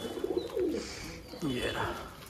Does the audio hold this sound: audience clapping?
no